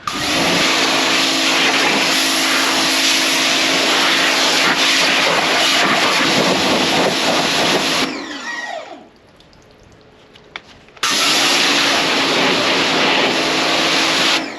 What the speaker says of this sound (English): hope you guys enjoy me jet washing my car for an hour